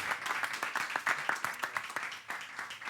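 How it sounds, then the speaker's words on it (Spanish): Audience applause for a panel at a breakfast talk on sport on screen at the Meetings FesTVal in Lanzarote: steady, dense clapping from many hands, moderately faint and sustained throughout. "Un aplauso inmenso para ellos."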